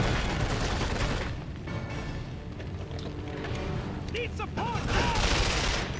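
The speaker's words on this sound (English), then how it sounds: "I'm gonna switch to this machine gun." Machine gun fire in the PS2 version of the video game Quantum of Solace, set in an eco hotel level, crackles in sustained bursts alongside game sound effects and whooshing tones, fairly loud and continuous.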